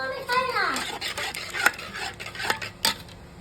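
Biryani ingredients being mixed with turmeric powder in a cooking pot, with a spoon scraping and clinking against the pot in short, uneven strokes at close range.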